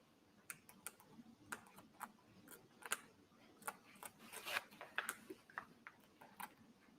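Scissors snip through sweatshirt fabric for a reverse appliqué piece, a series of faint, close, crisp clicks and cuts at an uneven pace, with soft rustling between them and no voices.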